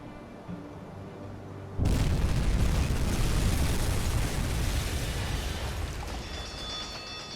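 A torpedo from a WWII U-boat strikes a ship in the UBOAT game: after quiet ambient hum, a sudden massive blast erupts and rolls on as a long, loud rumbling roar that slowly fades.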